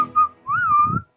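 A clear whistled melody, a short note followed by a longer sliding tone, close and alone with faint breathy noise underneath.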